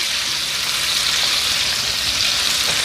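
Butter sizzles and spits steadily in a hot pan around a browned steak as it is basted, a dense, even frying hiss that carries unbroken from start to finish with no voices.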